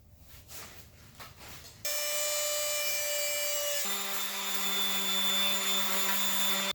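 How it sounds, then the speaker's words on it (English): Plastic tabs being cut off a stock car bumper with a power tool: soft scraping at first, then a loud, steady whine with strong tonal harmonics that drops in pitch partway through and keeps running. "So let's cut these tabs off, and then I will glue them down."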